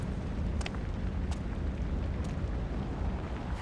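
Fire roars in Kingdom Hearts III, a low, steady rumbling crackle with occasional faint bursts, moderately quiet and continuous.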